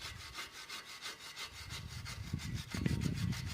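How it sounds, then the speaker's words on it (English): Wire brush scrubbing the brake caliper of a 2016 VW Caravelle during a front pad change, a steady rough back-and-forth scratching that grows louder and denser toward the end, close and alone. "And then just scrub it off with a wire brush."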